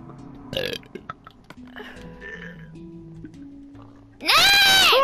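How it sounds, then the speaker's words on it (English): A single loud, long burp near the end, close and harsh, after a stretch of quieter vocal noises and hiccups. "I should burp there."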